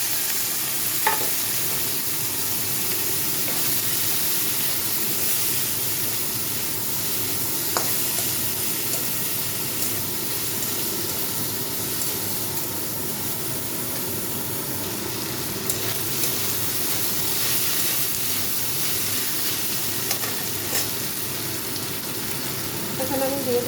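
Chopped onion, potato, ginger and green chilli fry in a little oil left from frying a fish head, giving a steady soft sizzle with occasional stirring clinks, close and continuous.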